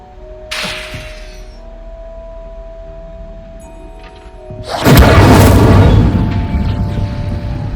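An Incendio fire spell in Hogwarts Legacy: a short whooshing burst, then after a lull a loud roaring blast of flame that booms and crackles on for several seconds.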